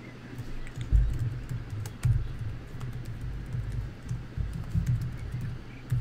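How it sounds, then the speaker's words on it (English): Typing on a computer keyboard while entering a channel name into a website, with soft, irregular key clicks heard close up against a low background hum, and no one speaking. "I type in my channel name."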